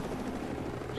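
Helicopter in the video game Modern Warfare 3, a continuous dense rotor and engine roar, close and steady throughout the short stretch.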